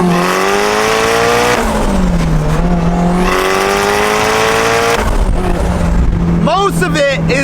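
A loud SR20-swapped Mazda Miata engine drones and revs up and down repeatedly, its exhaust and external wastegate dump roaring, with chirpy squealing bursts near the end.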